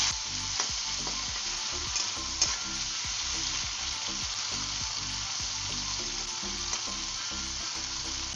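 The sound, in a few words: prawns frying in hot oil in a wok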